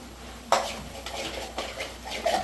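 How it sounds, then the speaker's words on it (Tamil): Chicken gravy, country chicken, is stirred in a cooking pot, with a few scraping clinks of a spoon against metal over a low steady background, fairly close and without talk. "இப்போ இதை வந்து நம்ம கிளறி விட்டுருவோம்"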